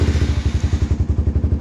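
A single-cylinder motorcycle fitted with a budget universal quickshifter idles loudly and close, its even rhythmic thumping pulses steady throughout.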